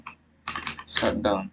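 Computer keyboard typing in a network configuration session, a few quick bursts of clacking keystrokes with a short pause between them, close and clear, with a spoken word mixed in.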